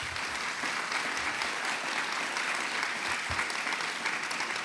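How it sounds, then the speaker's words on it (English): An audience at a county State of the County address breaks into sustained applause, a dense, even wash of many hands clapping from a distance, with no voices on top. "Please give yourselves a round of applause."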